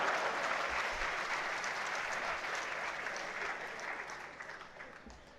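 An audience at an annual university convocation applauds in a sustained wash of clapping that slowly fades over several seconds.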